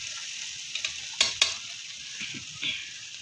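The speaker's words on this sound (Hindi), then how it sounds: "चलें भैया अब हमारे साथ अच्छी तरह मिक्स कर लेंगे।" Zarda sweet rice with coconut being mixed in a pan, a soft background sizzle broken by a few sharp scrapes and taps of a spoon against the metal, close and fairly quiet with no voices.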